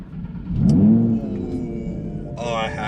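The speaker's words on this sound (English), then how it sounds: "let me start this engine" An Audi R8 engine starts close by, a rising rev swell that settles into a steady mid-pitched idle, with a brighter burst of noise near the end.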